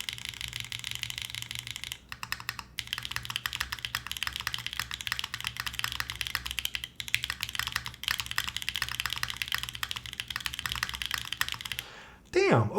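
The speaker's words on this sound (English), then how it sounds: "let's see what this keyboard sounds like" Steady typing on a mechanical keyboard fitted with Mode stabilizers: dense, close clacks and thocks in an uneven flowing rhythm with brief pauses, ending with a short vocal reaction.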